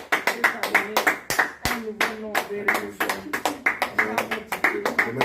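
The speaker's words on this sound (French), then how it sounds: "Je voudrais qu'on acclame le Seigneur" A church congregation claps in a steady rhythm, loud and close, with a few sharper slaps standing out and voices singing or calling along underneath the applause.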